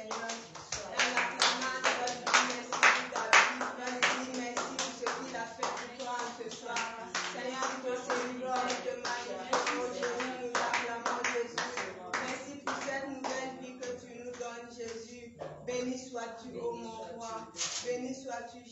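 A church congregation at an evangelistic service claps in praise, with steady rhythmic handclaps that carry on throughout alongside singing voices.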